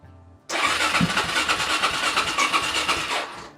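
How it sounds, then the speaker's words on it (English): A starter cranks briefly, then a 440cc single-cylinder motorcycle engine catches and settles into a steady, rapid thumping idle, loud and close, with no voices. "a thumping 440cc single-cylinder engine"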